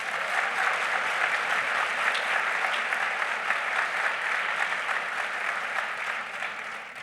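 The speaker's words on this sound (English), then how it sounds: "I'd like just one more nice round of applause for all the donors, authors, volunteers, and staff" Sustained applause from a book festival audience thanking donors, authors, volunteers and staff, a dense, steady wash of many hands clapping that holds evenly for the whole stretch without voices.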